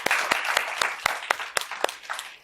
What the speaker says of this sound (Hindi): आपके लिए तालियां।